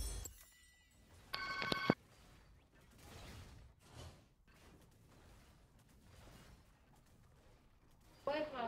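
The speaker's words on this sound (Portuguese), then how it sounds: "Telefone." A telephone rings in a couple of short electronic bursts, one near the start and one at the end, separated by muffled room noise and movement.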